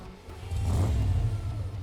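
A Dodge Challenger's engine revs up, its close, deep roar swelling after a moment and holding steady to the end, with no talking.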